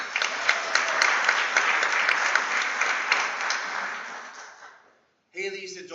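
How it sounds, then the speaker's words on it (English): An audience applauds loudly and steadily at a school board meeting honoring the 2022 salutatorian, a dense wash of clapping that fades out before a voice begins speaking. "let's give a nice round of applause for our 2022 salutatorian"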